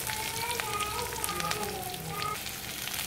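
Chopped onions sautéing in oil in a pan, giving a steady close sizzle and crackle with faint scattered pops, continuous throughout.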